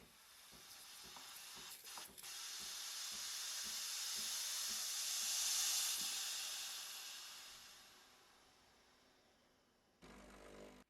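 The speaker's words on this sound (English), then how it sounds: "Turn steam knob to the left to flush out any excess milk caught up." A Breville Barista Express steam wand flushing out leftover milk gives a loud, steady hiss of escaping steam that swells and fades over about eight seconds, then cuts off, followed by a short burst of hiss at the end.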